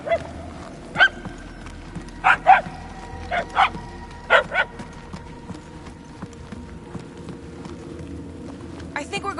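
A dog-like beast bays in the Guardians of the Galaxy video game, a few drawn-out, howling calls in bursts over a low game ambience, moderately near.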